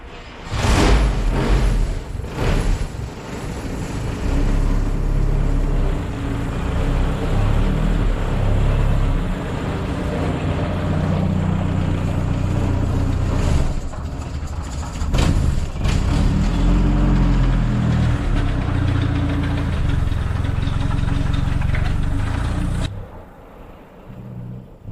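A World War II era car engine runs steadily at idle, a loud, close low rumble that holds for about twenty-three seconds before cutting off abruptly, leaving near silence.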